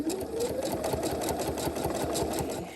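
A sewing machine running a straight stitch at 3.5 length, a steady fast mechanical chatter with even rhythmic needle beats throughout, close and continuous with no voices.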